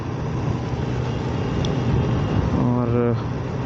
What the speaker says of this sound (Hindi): यहाँ पे एक ट्रैफिक है।